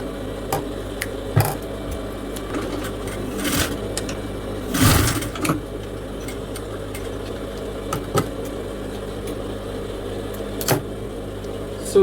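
A sewing machine stitches an aso-oke fabric ruffle headband, a low steady motor hum with sporadic clicks and short louder bursts, alone without speech.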